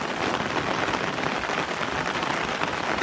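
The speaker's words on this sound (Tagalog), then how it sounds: "Ang ating moto camping ay naulan." Steady rain pours down at a motorcycle campsite on a farm, a dense close hiss of drops on surfaces that holds even throughout, with no voices.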